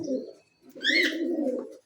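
Caged pigeons coo in two low, throaty bursts, a short one then a longer rolling one, close and clear, with a brief higher chirp over the second.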